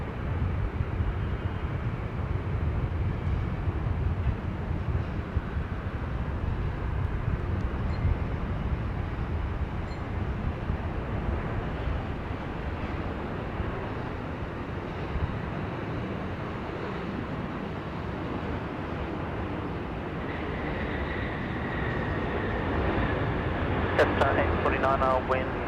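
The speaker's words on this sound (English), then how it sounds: "Etihad coming in." An Etihad airliner approaches to land at Sydney Airport as a loud, steady, low jet rumble mixed with wind buffeting on the microphone, with a higher whine and clicks coming in near the end.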